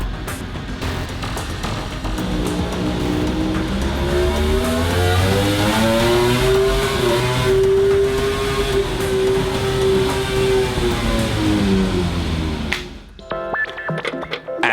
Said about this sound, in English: At the laboratory, they are testing the durability of the engine.